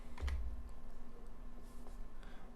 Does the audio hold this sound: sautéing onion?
no